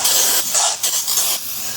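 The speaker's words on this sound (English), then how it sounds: "You want to spray it down." Aerosol brake cleaner hissing in steady bursts onto a greasy rear brake rotor of a Ford Escape, loud and close with brief pauses between sprays.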